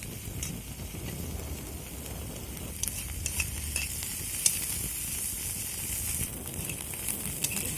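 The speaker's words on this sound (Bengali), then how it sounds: "এখন একই তেলের মধ্যে কুচো চিংড়িগুলোকে ভেজে নেব।" Small shrimp coated in salt and turmeric fry in oil left from frying lentil dumplings, a soft continuous sizzle broken by stirring scrapes and sharp crackles, close and fairly quiet.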